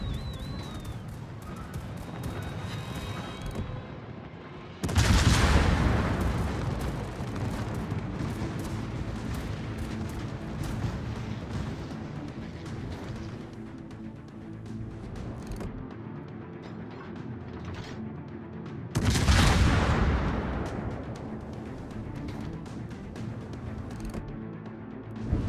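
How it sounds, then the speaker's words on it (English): Anti-aircraft guns on a warship in the naval battle game World of Warships fire in rumbling, booming volleys, with two heavy blasts standing out over a dense, continuous barrage. "Anti-aircraft gun crews are on full alert."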